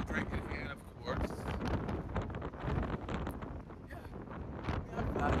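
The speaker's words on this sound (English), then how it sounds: "Y'all could see the wind is blowing." Wind buffets the microphone on a cruise ship deck in steady, rough gusts, and people talk over it.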